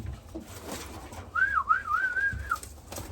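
A racing pigeon in a breeder loft gives a single drawn-out, wavering whistle-like coo, close and clear over a quiet background of soft movement.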